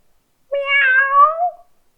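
A single clear, drawn-out meow, made by a human voice imitating a cat, rises and falls over about a second in otherwise silent surroundings.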